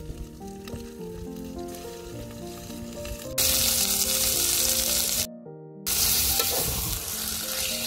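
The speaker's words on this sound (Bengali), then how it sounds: "এখন আমি মাংস দিয়ে দিব।" Chicken meat hits a hot pan and sizzles loudly while frying with ground spices, the hiss jumping up sharply as it goes in, breaking off for a moment, then returning under faint background music.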